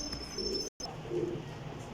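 Pigeons cooing softly at a pigeon seller's loft in Sarai Alamgir, Jhelum, a low rounded coo repeating twice in under two seconds, faint and close with a brief gap between.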